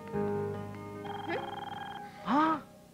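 A phone rings indoors with a repeating electronic trill, fairly close and clear, followed by a short voiced sound as someone reacts.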